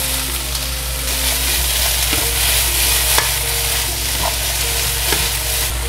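Bell peppers fry in a hot pan, a constant close sizzle with occasional clicks and scrapes from a utensil stirring them, steady and fairly loud with no talking.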